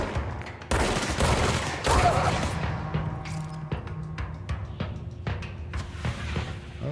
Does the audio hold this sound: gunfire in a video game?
yes